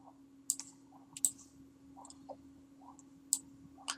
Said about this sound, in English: Left click and drag.